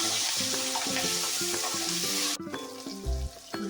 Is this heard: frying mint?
yes